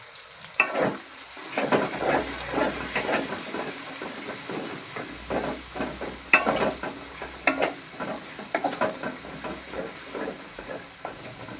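Garam masala, bay leaves and dried chillies frying in hot oil in a pan, a steady bright sizzle with repeated scraping stirs and crackles throughout, close and fairly loud.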